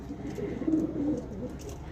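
Pigeons give low, soft cooing calls in a couple of short murmured phrases, close by and steady against a dull background hum, with faint voices now and then.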